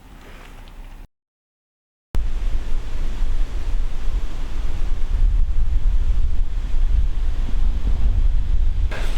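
Steady roaring northwest wind gusting to 20 mph buffets the microphone outdoors while bowhunting in Wisconsin in November, loud and continuous after a brief dropout, with gusts swelling and fading and no voices.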